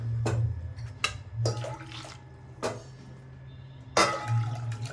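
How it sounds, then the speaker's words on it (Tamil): Water pours and splashes in several short bursts into a container of shelled green peas, with brief pauses between, over a low steady hum in the background. "இப்போ இந்த தண்ணியை இது பட்டாணி உரித்து வச்சுருக்கேன், பச்சை பட்டாணி. இதில் இந்த தண்ணியை ஊற்றிக்கிடுவோம்."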